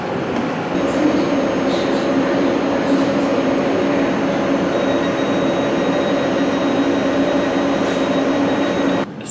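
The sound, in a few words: underground train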